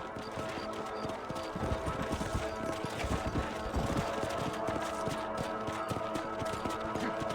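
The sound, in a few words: horse hooves clip-clopping while riding, from video game Red Dead Redemption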